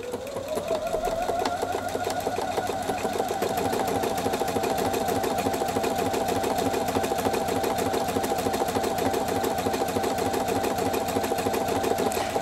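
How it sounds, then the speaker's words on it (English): A Pfaff Performance 5.0 sewing machine stitches a buttonhole with automatic tension, a fast, even mechanical whirring and rapid needle clatter running loud and unbroken throughout. "And because the machine has fully automatic tension settings, it sets the tensions properly to do the best looking buttonhole."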